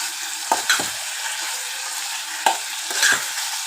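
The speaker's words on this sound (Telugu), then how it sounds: "మటన్ కొంచెం మెర్రగా అయిపోయింది పది నిమిషాలు వేగింది" Pre-salted, boiled mutton frying in a pan for about ten minutes until slightly crisp. A steady, loud sizzle runs throughout, broken by a few sharp clinks and scrapes of a stirring spoon.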